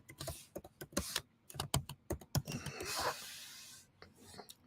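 A name is typed on a computer keyboard, with a quick irregular run of close, crisp key clicks, then a brief soft rustle and a few final taps.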